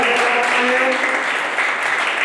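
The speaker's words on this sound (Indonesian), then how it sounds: "Berikan tepuk tangan buat Pak." Audience applause at a Christian seminar on marriage agreements and Christian marriage, a steady dense clapping wash lasting a couple of seconds, with faint voices mixed in.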